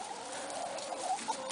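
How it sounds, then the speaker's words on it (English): Rooster and hens penned in a loft, giving soft scattered clucks and small patters over a steady background hum, fairly close and low in level. "Here's Mr. Rooster."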